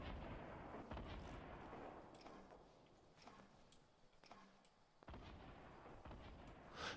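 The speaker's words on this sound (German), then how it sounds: "Das waren immer noch Schüsse von einem Grenade Launcher." Repeated booming grenade launcher shots in Fortnite Battle Royale with explosive impacts, loud and dense over a rumbling background, with a few sharp reports spaced through.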